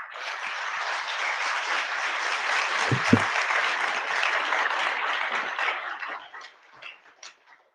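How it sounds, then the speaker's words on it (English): A crowd at a live debate applauds in a sustained, even wash that lasts several seconds and then fades to scattered last claps. "Let's give one more big round of applause for our speakers."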